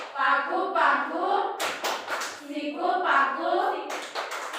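Children chant the Malaysian Tepuk Malaysia clapping game in a classroom, voices in rhythmic unison with sharp hand claps and taps punctuating the chant, close and fairly loud.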